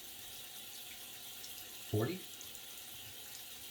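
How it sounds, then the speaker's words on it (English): Warm tap water runs steadily in a sink as a shaving brush is rinsed under it, a constant soft splashing hiss with a brief louder gush midway and a man counting aloud. "I'm washing off my brush now"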